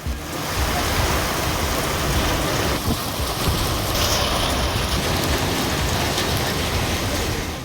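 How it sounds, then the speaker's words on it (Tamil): Heavy rain pours steadily and loudly around Tiruchuli and Kariyapatti in Virudhunagar district, a dense, continuous hiss of falling water with no clear thunderclap and no voices. "இடி மின்னலுடன் கனமழை பெய்தது"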